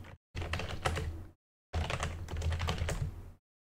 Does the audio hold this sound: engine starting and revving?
no